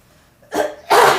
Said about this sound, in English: Clear my throat so you can hear me